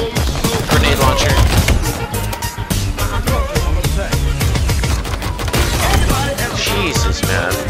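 Grenade launcher fire in the shooter Halo Infinite, a loud dense stretch of repeated blasts and booms over constant game music and effects, with no gap throughout.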